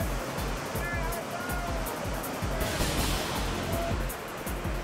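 Churning whitewater rapids on the Arkansas River in the Colorado Rockies give a dense, continuous roar of rushing water. A voice is also present.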